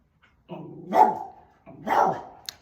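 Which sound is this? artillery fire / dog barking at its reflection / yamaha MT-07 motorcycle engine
dog barking at its reflection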